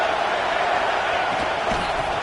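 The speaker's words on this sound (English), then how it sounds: "This crowd bringing the energy and noise early." Stadium crowd in the College Football 26 video game, a dense, steady roar of many voices that stays loud and unbroken throughout.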